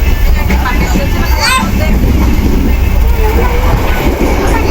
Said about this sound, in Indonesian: kereta sudah berjalan sekitar 110 sampai 120 km per jam meninggalkan stasiun Kosambi